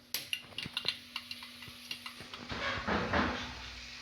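Mustard seeds crackle and pop in hot oil in a pan, sharp irregular spitting bursts up close that swell into a denser sizzle toward the end.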